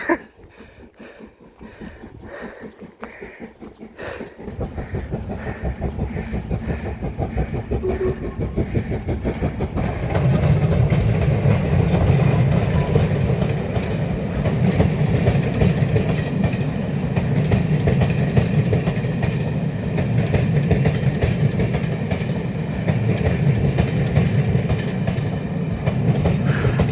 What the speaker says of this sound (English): The train's just here.